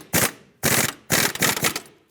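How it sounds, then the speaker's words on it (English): A torque wrench tightens the nut on a sway bar link of a 2001-2003 Lexus ES300: three loud, close bursts of rapid ratcheting clicks, the last one longer, with short pauses between them. "Let's snug it up, and then we torque this to 14 foot-pounds."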